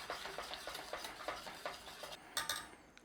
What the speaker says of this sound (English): keep stirring it just for probably about 25 seconds or so